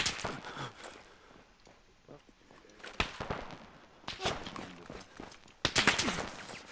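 Bursts of gunfire from an Arma 3 military simulation firefight, sharp volleys and rapid fire at several points amid footsteps and movement, with players talking under the shooting.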